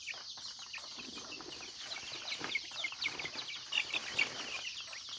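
Free-range chickens, a hen's grown chicks, cluck and chirp continuously at a moderate distance, with scattered sharper calls and some wing flutters, no talking.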